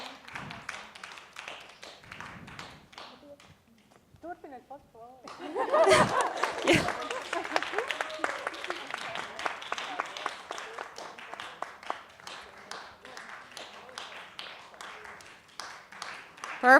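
Forum audience in a small hall breaks into scattered applause and cheering after a quiet pause, claps and whoops rising then thinning out under murmuring chatter.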